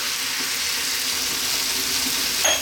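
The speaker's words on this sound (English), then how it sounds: "we're going to add that coconut milk that I spoke to you about earlier on" Coconut milk, 400 ml, poured into a hot pan for a vegan biryani, producing a steady close hiss of sizzling with a faint splash near the end.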